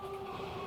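A train rolls past in Factorio, a steady humming rumble with a sustained tonal drone, faint and continuous through the whole short moment.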